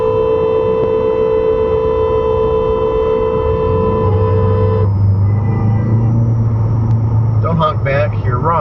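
In traffic in Augusta, Georgia, a long, steady car horn blares loudly, then cuts off, leaving engine rumble and a few brief voices.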